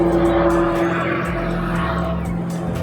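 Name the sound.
aircraft flying overhead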